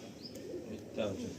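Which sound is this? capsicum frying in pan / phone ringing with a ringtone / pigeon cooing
pigeon cooing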